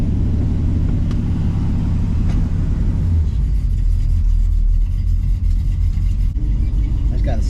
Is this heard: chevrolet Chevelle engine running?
yes